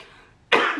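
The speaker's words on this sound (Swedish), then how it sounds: "jävla hosta" A single sudden harsh cough bursts out near the microphone after a quiet moment, loud and short.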